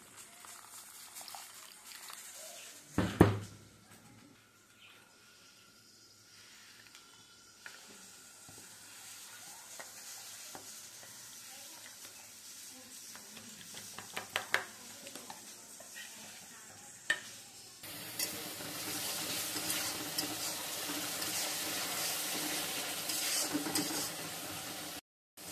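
Red chili powder paste mixed with a little water frying in a pan for a taro curry, a quiet sizzle with scattered stirring knocks and scrapes, one sharp clank near the start and a louder, denser sizzle toward the end.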